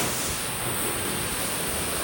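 Water jets spraying down a KTM Duke 200 motorcycle during a service wash, a steady dense broadband hiss that runs unbroken and fairly loud from start to finish with no voices.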